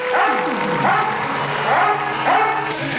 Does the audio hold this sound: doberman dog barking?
yes